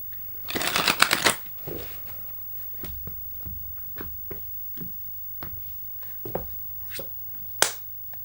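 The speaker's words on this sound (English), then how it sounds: "So we're going to pull cards for the areas." A deck of cards is shuffled before a reading, with a quick riffling burst up front, then scattered soft taps and flicks as the cards are handled, close and quiet.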